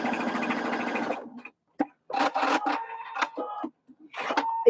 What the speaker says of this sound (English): I'm going to lay my seams flat, press them preferably, and then I'm going to top stitch those.